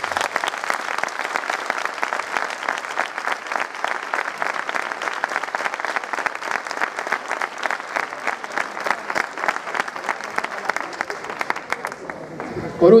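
Sustained, even applause from an audience at a school graduation, many hands clapping steadily for several seconds before cutting off abruptly.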